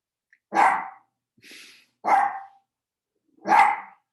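A dog barks indoors at a delivery, three sharp, loud, close barks spaced over a few seconds with a softer huff between them, no talk.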